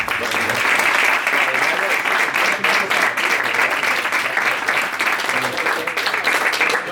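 A business debate audience gives the debaters a long, loud round of applause, a thick, continuous wash of clapping hands that fills the room and never lets up.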